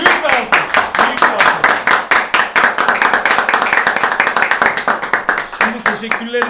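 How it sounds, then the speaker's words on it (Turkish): Rhythmic, loud clapping in a regular beat greets an orchestra during a live stream with a belly dancer, close and sustained, with a voice briefly heard under it near the end. "Orkestra ya büyük bir alkış! Büyük bir alkış!"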